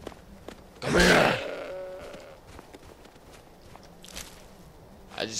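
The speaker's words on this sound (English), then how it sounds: "Goats. Plural." Goats bleat in the Skyrim video game: one loud, close bleat near the start, then fainter bleats and soft footstep-like shuffles in a quiet outdoor game scene.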